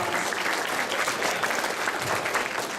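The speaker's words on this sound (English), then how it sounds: "give him a round of applause." Steady, dense audience applause at a book launch, many hands clapping continuously at an even level for the whole stretch with no voices rising above it.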